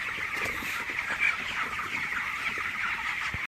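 A flock of 22-day-old chickens squawks and chatters at feeding time in a steady, dense, fairly close chorus of overlapping calls with no speech.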